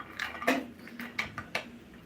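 Peanuts dry-roasting in a hot pan for peanut ladoo, stirred with a utensil: a few soft, close clicks and light scrapes in a quiet room, spaced irregularly over about two seconds.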